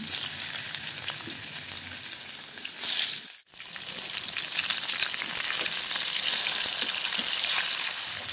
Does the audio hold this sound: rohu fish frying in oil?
yes